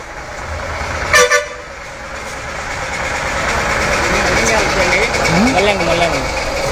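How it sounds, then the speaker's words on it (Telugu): A bus pulls in with its diesel engine rumbling and a sharp double horn toot near the start, while people talk nearby over the idling engine. "ఈ పూర్ బస్సు వచ్చింది రావాలి"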